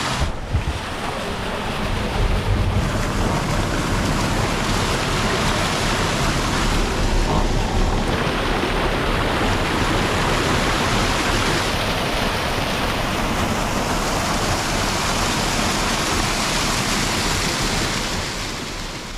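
Water rushes steadily over water wheels outdoors, a loud, continuous broadband roar with constant churning and splashing, close to the microphone, with no talking.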